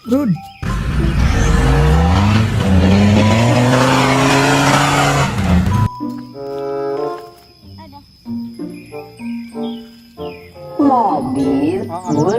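Toy off-road Jeep gives a loud electronic burst of revving engine and screeching tire noise for about five seconds, then a tinny chiming melody of short notes follows, ending in another brief squealing sweep.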